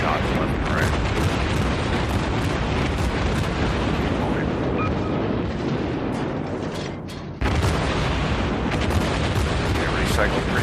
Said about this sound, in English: you can just rattle off shots left and right